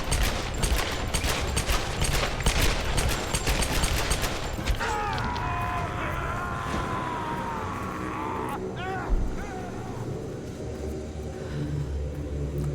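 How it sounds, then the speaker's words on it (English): Rapid pistol shots crack in Tomb Raider, a dense volley of gunfire for the first few seconds, then giving way to rumbling engine-like tones and scattered later shots. "Oh, dual pistols."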